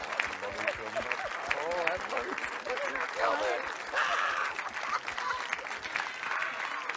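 Theater audience applauding at a film press event, a steady wash of clapping that carries through the whole stretch with voices talking over it.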